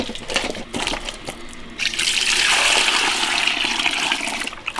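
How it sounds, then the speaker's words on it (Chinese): Running water splashes over raw pork being rinsed in a basin, a steady gushing pour that swells louder partway through, with no talking. "加水，多给它洗几遍。"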